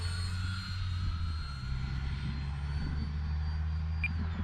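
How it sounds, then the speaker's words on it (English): An Easy Habu radio-controlled jet with lights, powered by a Spektrum 4000 4S battery, flies at full speed as a steady, continuous whining drone at moderate distance. "What a fun jet to fly."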